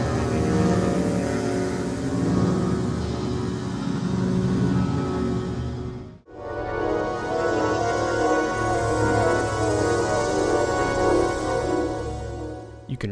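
A Voxpat synthesizer produces a dense engine-like drone whose pitch morphs and climbs. It is loud and sustained, with one brief dropout midway.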